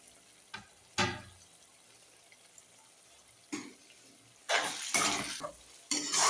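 Chicken frying with onion, ginger-garlic paste and chopped green chillies is stirred in a pan, soft sizzling under repeated scraping bursts from the spoon, several close strokes clustered toward the end.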